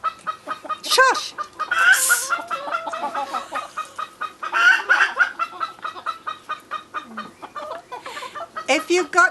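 Close, loud clucking from a green jungle fowl comes in an irregular rhythm. The calls rise into harsher squawks, with a little human speech mixed in.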